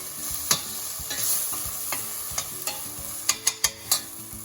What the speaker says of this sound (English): Let it cook till it get brown.